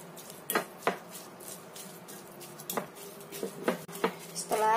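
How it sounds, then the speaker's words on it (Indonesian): A fork mashing tofu and carrot in a bowl gives repeated sharp clinks and scrapes against the dish at an uneven pace, with some quieter squishing between them. "Ini kita haluskan, kita becek-becek menggunakan garpu atau ulekan."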